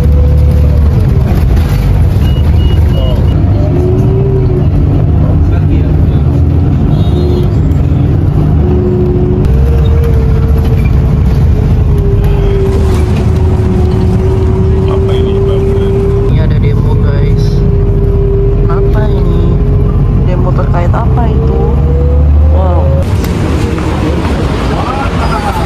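A bus rides through Paris traffic toward the Arc de Triomphe, its engine a steady low rumble that runs throughout, with a voice talking over it.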